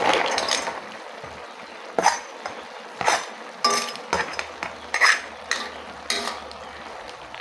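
Ginataang kamansi with crab being stirred in a cooking pot, a spoon scraping and clinking against the metal in repeated irregular strokes with light simmering underneath, close and fairly loud, no talking.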